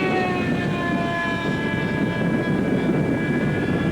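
A model jet aircraft at a jet rally flies past, its loud continuous turbine whine and roar holding steady and close throughout with a slight tonal shift.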